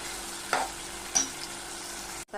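Onion and tomato frying in a masala base for a prawn pulao, a soft steady sizzle with two brief scraping stir strokes, quiet and close, ending abruptly.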